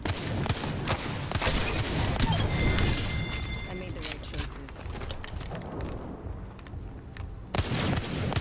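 Apex Legends gunfire bursts in a match, a dense run of rapid shots and impacts through the first half then fading, with a player talking over the game sounds throughout.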